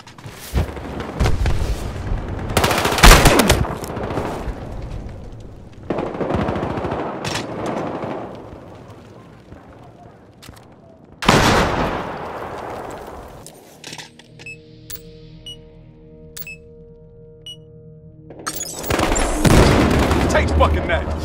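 Gunfire bursts in Battlefield Hardline come in several loud, separated volleys with booms, mixed with players talking, and one quieter stretch in the middle.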